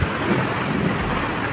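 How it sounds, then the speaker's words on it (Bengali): Heavy rain pours down in a thunderstorm, a loud, steady roar of falling water with a low rumble beneath it, heard alone without voices. "মেঘের আওয়াজ তোমরা বুঝতে পারছো কী হারে বৃষ্টিটা হচ্ছে?"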